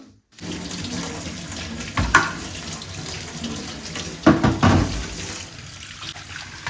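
Water runs steadily from a kitchen tap while a tool is washed under it, a loud continuous splash with a few stronger surges where the stream hits the tool.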